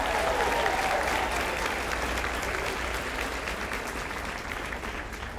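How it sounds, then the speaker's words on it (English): A large audience applauds at a high school graduation ceremony, a dense and even wash of clapping that continues throughout and fades slightly toward the end. "let's give him a big round of applause"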